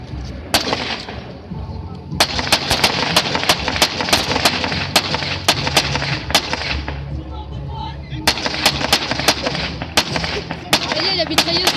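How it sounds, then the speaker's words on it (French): Machine gun firing during a military combat demonstration, in sharp, loud bursts of repeated shots separated by short pauses, with background rumble and occasional voices. "Allez, la mitrailleuse tire."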